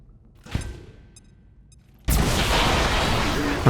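Grenade explosion in the strategy game XCOM 2, preceded by a thump and fading rumble, then a sudden loud blast that erupts into a sustained, dense roar of debris and rumbling.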